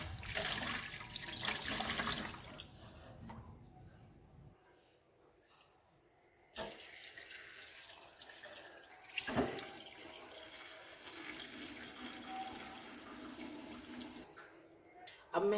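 Poppy seeds being rinsed in water to wash out dirt, with water running and splashing in a sink or bowl, swishing and pouring in bursts that come and go with quieter pauses.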